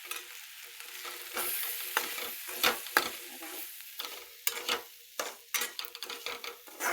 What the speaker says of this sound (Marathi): तेलात परतायचंय बरं का.